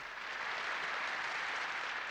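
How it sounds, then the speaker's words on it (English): Concert applause in the visual novel White Album 2, a dense, even wash of clapping from a large audience that holds steady throughout. "The thundering applause was different from the one before the concert started."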